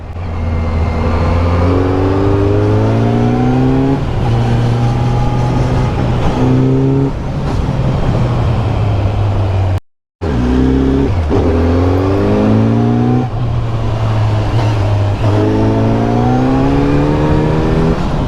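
Kawasaki Z900 motorcycle climbing a rough mountain road toward Mussoorie, its engine droning loud and close with rising and falling revs through gear changes, a brief cut midway, no talk.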